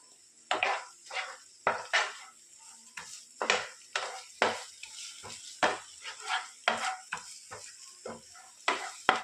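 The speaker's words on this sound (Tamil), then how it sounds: "கொஞ்சம் இஞ்சி பூண்டு பேஸ்ட் சேர்த்துக்கலாம். நல்லா வதக்கிக்கலாம்." Ginger garlic paste being sautéed in a pan, with a soft sizzle beneath repeated, rhythmic scraping and stirring strokes of a utensil against the pan, close and fairly loud throughout.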